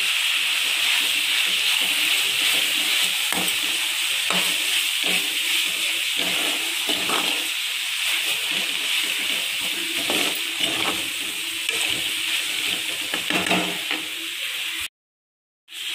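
Broad beans frying with onion and tomato in a pan for avarakkai poriyal, a steady close sizzle broken by repeated clinks and scrapes of a spoon stirring, ending in a brief cut to silence.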